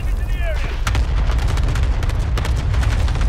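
Cluster strike explosions in a Call of Duty battle royale match land as a rapid, dense run of booming blasts and crackling impacts, loud and continuous, with a brief whistling sweep at the start.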